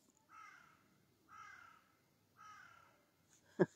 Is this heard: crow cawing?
yes